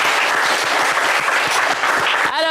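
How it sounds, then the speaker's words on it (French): Studio audience clapping on a French TV game show, a steady, fairly loud burst of many hands that carries through and cuts off sharply near the end. "on vous applaudit également très fort"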